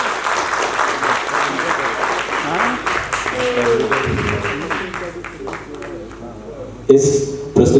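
An audience applauds after a stage play performance in Kanpur, a dense, sustained clapping that runs throughout while a voice speaks over it, with a louder burst near the end.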